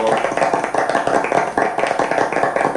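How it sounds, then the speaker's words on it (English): A small group claps in quick, uneven bursts at an ADOS conference gathering, moderately close and steady for a few seconds with faint voices underneath. "we give those born on Nia a round of applause"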